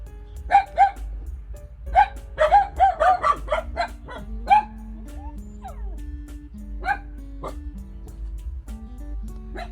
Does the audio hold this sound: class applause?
no